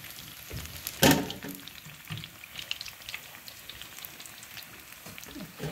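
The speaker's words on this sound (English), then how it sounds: "Fry it at least 10 minutes. Must get brown." Vede frying in hot oil, a steady crackling sizzle throughout with a brief louder burst of splatter near the start, heard close and alone.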